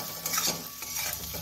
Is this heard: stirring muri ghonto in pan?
yes